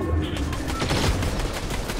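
A rapid burst of automatic gunfire sprays in the Fortnite video game, a dense run of sharp cracks lasting about two seconds, fairly loud and up close.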